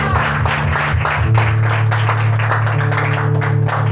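A church congregation claps loudly for Jesus, with continuous clapping mixed over sustained music tones that fill the whole stretch.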